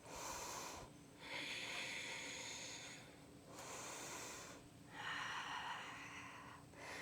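Slow, deep breaths during a yoga session, each long airy inhale and exhale rising and fading in turn, close and fairly loud with no talking.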